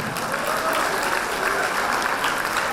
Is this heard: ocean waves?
no